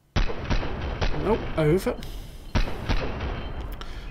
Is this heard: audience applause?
no